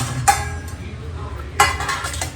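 Ceramic or steel plate lifted in a home kitchen, giving two sharp clinks about a second apart over a low room hum.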